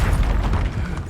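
Exploso spell blast from the Hogwarts Legacy video game, a dense booming burst that rumbles continuously with heavy low-end energy through the whole short moment, loud and close.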